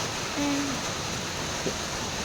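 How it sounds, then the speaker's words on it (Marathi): Steady, continuous rain hisses down onto an open terrace in Pune during an unseasonal summer downpour, a dense even wash of sound with no voices. "भारी वाटतं ना पण पाऊस येतोय ते"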